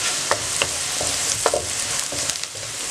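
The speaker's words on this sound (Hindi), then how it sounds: "चंद सेकंड के लिए जीरा को हमने फ्राई किया" Cumin seeds frying with softened onions in hot oil, a steady dense sizzle broken by scattered clicks and scrapes of stirring, close and continuous with no talk.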